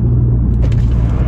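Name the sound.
Audi S3 car engine with new exhaust line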